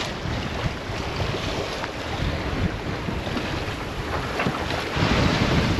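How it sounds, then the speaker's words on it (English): Strong, steady wind roars across the microphone aboard a 27-foot sailboat at sea in heavy weather, with a constant rushing gust noise and waves sloshing underneath, growing slightly louder toward the end. "The wind is shifting a lot"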